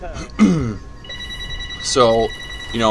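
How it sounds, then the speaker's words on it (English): A telephone rings with steady electronic tones in the background during a Crysis 3 gameplay commentary session, while someone talks over it in short bursts. "Oh, sorry about the phone call here"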